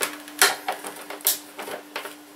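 A screwdriver turns out screws from a plastic VTech children's learning laptop, making a series of small, light clicks and scrapes close by with a faint steady hum underneath.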